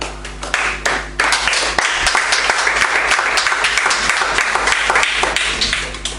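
A church congregation breaks into loud, sustained applause, many hands clapping densely together for several seconds before tapering slightly at the end.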